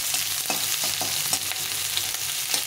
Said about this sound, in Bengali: এর মধ্যে এই পেঁয়াজটা দিয়ে দেবো